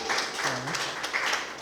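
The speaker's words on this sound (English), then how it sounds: "A round of applause for her." A small book launch and exhibition crowd applauds, with scattered, moderately loud clapping and a voice audible among the claps.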